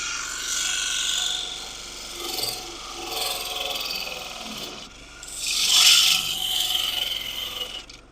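A hand saw cuts through a wood and resin turning blank with steady back-and-forth rasping strokes, continuous and fairly loud up close, with no talk.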